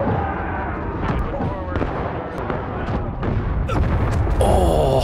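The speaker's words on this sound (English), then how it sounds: "our own cannon just obliterated us" Cannon fire in the Civil War game War of Rights, heavy booms and cracking blasts scattered through the clip, loud and close, amid battle noise and excited talking.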